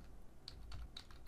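A file name is typed on a computer keyboard during a programming tutorial, with a few faint, sparse key clicks spread over a second and a half, close by.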